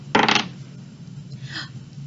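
A die rolled on a tabletop during a kindergarten subtraction dice game makes a quick burst of hard clattering, then a softer rattle as it settles, close and alone.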